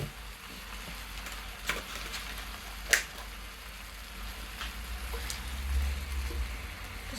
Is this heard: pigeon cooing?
no